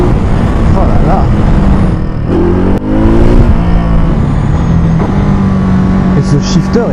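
A 2021 Ducati Monster motorcycle engine drones loudly and steadily throughout, with rising harmonic sweeps as it revs and shifts gear, while a rider talks over it.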